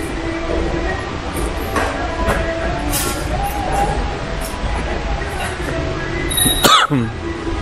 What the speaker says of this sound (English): Oh, excuse me. Coughing.